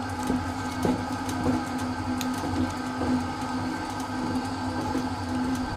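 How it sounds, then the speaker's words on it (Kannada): A kitchen mixer grinder runs steadily as it grinds coconut masala with garlic and onion, a continuous loud whirring hum with a rattling buzz and no break or talk. "ಇವಾಗ ಇದನ್ನು ನಾನು ಗ್ರೈಂಡರಿಗೆ ಗ್ರೈಂಡ್ ಮಾಡಲಿಕ್ಕೆ ಹಾಕ್ತೇನೆ ಇವಾಗ ಇಲ್ಲಿ ಮಸಾಲ ಗ್ರೈಂಡ್ ಆಗ್ತಾ ಇದೆ"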